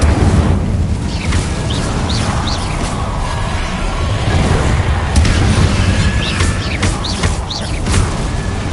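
Incendio fire spell cast in Hogwarts Legacy, a sustained roaring, crackling rush of flame with low rumble and scattered bright pops, steady and loud for several seconds.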